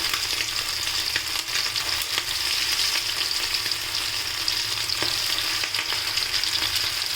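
Chicken 65 pieces fry in hot oil in a pan on a stove, a steady close sizzle and crackle that keeps on without a break, with faint stirring and no voices.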